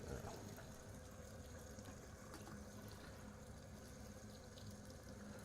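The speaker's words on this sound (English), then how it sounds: "get this water running cold" Cold water runs steadily from a tap while film is being developed at home, a constant rushing hiss with no break, fairly close and soft.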